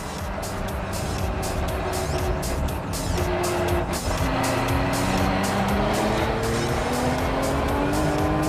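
A race car accelerates hard on a bumpy track, its engine note climbing steadily through the gears, loud and close with faint tire noise, and no talking.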